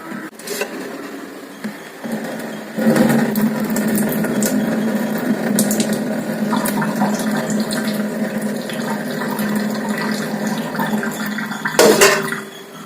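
Leftover cooking water pours off a pot of boiled Mappillai Samba hand-pounded rice as it is tipped to drain. A steady splashing stream runs close and fairly loud for several seconds, with brief clatters at the start and near the end.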